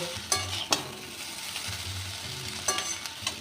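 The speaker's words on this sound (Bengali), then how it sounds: "চাউমিনটা খুব ভালো করে ভেজে নিয়েছি" Kolkata-style chow mein noodles stir-fried with egg in a pan: a steady sizzle with a few sharp clatters of a spatula scraping and tossing, close and moderately loud.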